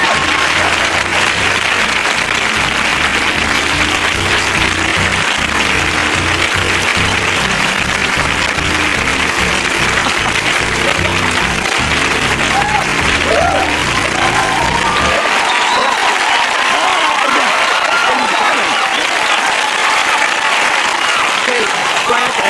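An audience applauds loudly and continuously, a dense sustained clatter of many hands clapping with some cheering mixed in, close and full throughout.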